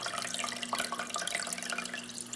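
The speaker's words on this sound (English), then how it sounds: "now we can see how the pump is pumping the water" A small countertop hydroponic growing system's pump circulating water, a steady trickling and gurgling flow with faint drips, continuous and fairly quiet throughout.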